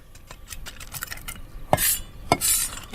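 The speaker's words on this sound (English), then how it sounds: "I'm chopping them so that some are quite rough and others are splintery shards" A kitchen knife chops almonds on a board with light, scattered taps that build to two sharper, louder chops near the end, with no talking.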